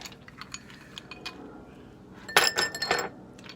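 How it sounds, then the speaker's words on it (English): Ice cubes drop into a glass for a lockdown cocktail, making a loose run of light clinks followed by a louder cluster of clattering knocks near the end. "Gonna throw some ice in the glass here."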